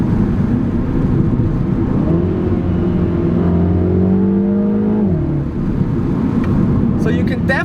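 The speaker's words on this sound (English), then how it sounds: "the exhaust notes of this car just makes the whole experience perfect in this." A 2020 Mini Cooper JCW with turbos pulls hard on a mountain pass, its engine rising steadily in pitch through the revs before easing off, heard from inside the car under constant road roar.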